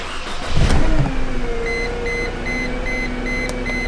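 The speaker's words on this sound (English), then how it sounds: "Let me go ahead and start the vehicle up." A vehicle engine cranks and catches, then settles into a steady idle while a repeated electronic beeping chimes from the dash, heard up close inside the car during an injector test with a scan tool.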